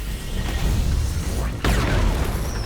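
The main cannon in the video game Dawn of War 3 firing, a heavy booming blast that cuts in sharply partway through over a dense, rumbling battle din, with voices speaking around it.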